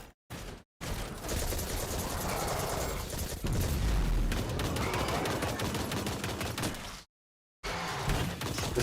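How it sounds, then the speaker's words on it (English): Rapid submachine gun fire in the Destiny 2 game, loud continuous bursts filling most of the stretch with brief silent gaps between volleys. "This is a submachine gun. It wrecks things."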